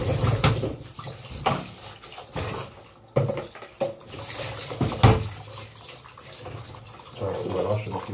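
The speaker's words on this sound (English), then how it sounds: "Wash the cucumber like this." A cucumber is washed under a running kitchen tap, with water gushing and splashing in uneven bursts up close and a voice speaking at times over it.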